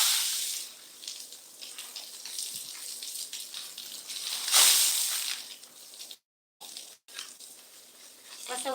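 Water being thrown and splashing in a noisy outdoor setting, with broad hissing splashes through the stretch, one louder burst near the middle, and a couple of brief dropouts.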